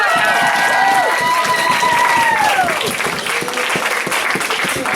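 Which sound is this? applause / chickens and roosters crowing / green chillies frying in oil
applause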